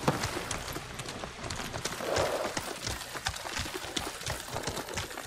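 A horse gallops in the video game Ghost of Tsushima, a steady run of hoofbeats close by with soft ambient game sound behind it.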